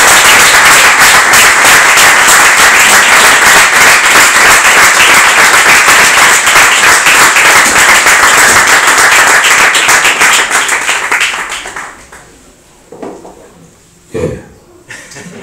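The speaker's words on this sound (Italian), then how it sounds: "vorrei che lo accogliessimo con un fragoroso applauso, Nando Poku." Loud, dense applause from an audience at a public event in Ugento, sustained for about eleven seconds before fading into scattered claps and a few coughs.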